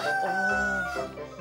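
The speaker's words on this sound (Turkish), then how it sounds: "Bu horoz da bas bağırıyor" A rooster crows once nearby, a loud, drawn-out cock-a-doodle-doo rising and then falling away over about a second and a half.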